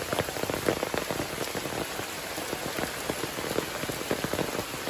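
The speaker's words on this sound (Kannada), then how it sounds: "ಇವತ್ತು ಎಷ್ಟು ಜೋರು ಮಳೆ ಬರ್ತಾ ಉಂಟು" Heavy rain pattering hard on a surface nearby, with dense individual drops splashing in a constant rush.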